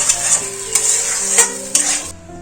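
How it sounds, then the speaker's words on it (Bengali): A spice paste for a vegetarian fenugreek and fennel curry is lightly stirred and fried in a pan, with a steady close sizzle broken by four soft scraping stirs over about two seconds before the sizzle cuts off. "এই মশলাটা একটু কষিয়ে নেব বেশি কষাবো না হালকা করে একটু কষিয়ে নেবো"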